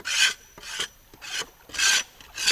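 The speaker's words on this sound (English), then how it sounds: "just got to shave off all these little last" A hand tool rasps across bamboo in five rough, rhythmic strokes, shaving and smoothing the last pieces for a raft; close and steady, with no talking.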